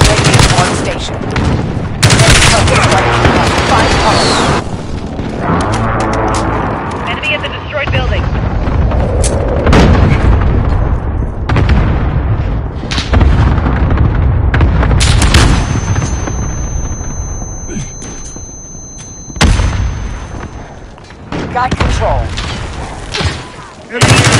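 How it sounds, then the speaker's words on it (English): A precision airstrike in a video game lands as loud, dense booms and rattling gunfire, rolling almost without pause, with game voice callouts mixed in. "Friendly precision airstrike inbound."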